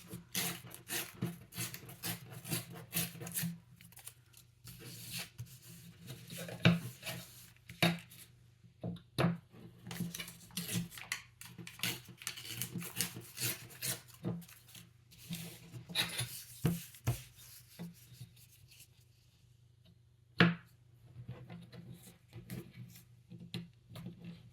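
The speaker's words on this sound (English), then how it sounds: "I'm just going to trim these up and then fold them in half" Jelly print papers being trimmed and folded in half, with soft rubbing, rasping paper handling and light taps and clicks on a work surface, close and quiet, with no talking.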